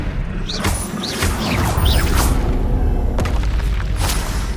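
A Confringo spell blast in Hogwarts Legacy bursts out as a loud, heavy boom, with crashing impacts and rumbling effects in the thick of a fight.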